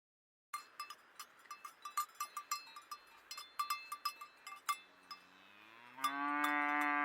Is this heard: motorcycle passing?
no